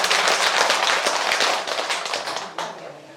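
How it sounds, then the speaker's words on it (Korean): Temple attendees at a Buddha's Birthday gathering clap together, a close, crisp burst of many hands with distinct sharp strikes that tapers off after a couple of seconds. "맞으면 박수 한번 줄 거니"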